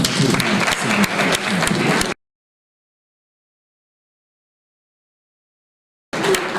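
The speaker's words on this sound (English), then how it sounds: "Let's give him a big round of applause." An audience at a political parties dialogue session applauds a presenter with dense, continuous clapping that cuts out into complete silence for about four seconds, then resumes.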